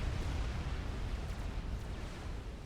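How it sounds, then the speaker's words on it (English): Explosions roll through a strategy game battle, with dense, continuous low rumbling and booming at a steady loud level and no voices. "I hear explosions"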